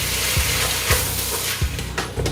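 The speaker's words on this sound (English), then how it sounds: "We're gonna go in now with our ground beef. So we're gonna stir this beef and mash it in, right?" Ground beef sizzles in a hot pan and is stirred and mashed, with a steady close frying hiss broken by several soft scraping stirs at irregular intervals.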